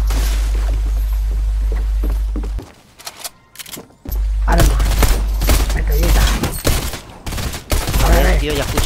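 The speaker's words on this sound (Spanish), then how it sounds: "ya escucho disparo" Gunfire from a video game comes in dense, loud bursts and rapid volleys, broken by a short lull and then resuming with heavy repeated shots under an ongoing low hum.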